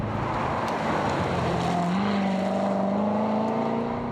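A 2014 Chevrolet Corvette Stingray engine in track mode roars steadily at high revs, its low growl rising slightly in pitch as it pulls along, loud and close.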